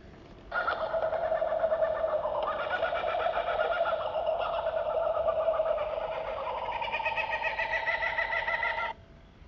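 Kookaburras call in the Australian bush, a continuous, loud, raucous chorus of layered cackling bird cries that starts abruptly and carries on for about eight seconds with no talking.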